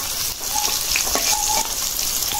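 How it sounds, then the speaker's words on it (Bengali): Small young hilsa fish fry in a hot pan with a loud, close, steady sizzle, joined by a few soft stirring scrapes. "মাছগুলি ভাজা হয়ে গেছে, উঠাই দেব।"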